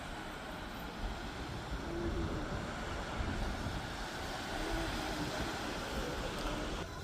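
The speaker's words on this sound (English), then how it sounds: "Sure is a icy cold breeze coming off that water." A cold breeze buffets the microphone at the beach while waves wash in steadily underneath, a broad continuous rushing roar with gusts swelling and easing, no voices over it.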